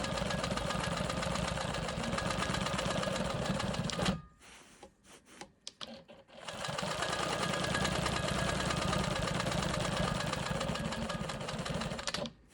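A Quilt Maker Pro 20 quilting machine stitches in the ditch with a steady, fast mechanical whir and rapid needle patter, pausing briefly mid-run before resuming at the same pace.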